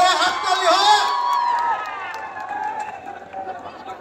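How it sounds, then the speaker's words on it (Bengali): A large crowd cheers and whoops loudly at an open stage show in Berhampur, Murshidabad, as a guest is called up, with shrill whistles and shouts over a steady roar that eases slightly toward the end. "জোরে হাততালি হোক।"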